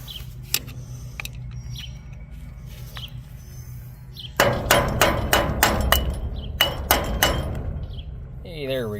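A hammer strikes a chisel to pry off a wheel hub cap, sharp metallic knocks that land sparsely at first and then come in a quicker, louder series, with faint background noise between blows.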